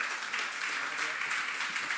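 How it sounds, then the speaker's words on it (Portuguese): Church congregation applauding together during a worship service, a steady, dense wash of clapping that fills the room without pause. "Aplauda ao Senhor, dá um glória a Deus bem forte"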